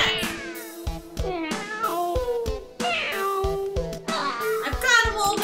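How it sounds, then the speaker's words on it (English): Cartoon cats meow repeatedly in the Spooky Cats video game, several loud, overlapping mews rising and falling over a busy game-music backdrop, with no talking. "The cats are back!"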